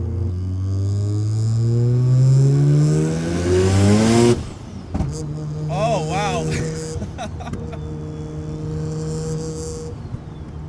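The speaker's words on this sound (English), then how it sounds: "Yeah, that was the exhaust" A 650 hp turbocharged Mazda RX-7 rotary engine with a 66mm turbo at 17 pounds of boost climbs through a loud, rising rev for about four seconds. It then snaps off into crackles and a lower idle, and a voice briefly exclaims.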